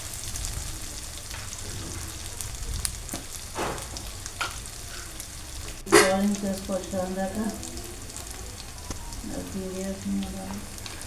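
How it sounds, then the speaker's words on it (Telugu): Cashew, almond and grated coconut paste hits hot tempering oil, bursting into a loud sizzle around the middle that settles into steady frying crackle with stirring, preceded by quieter pan noise. "తాలింపులో వేసుకొని ఇలా ఫ్రై చేసుకోవాలన్నమాట."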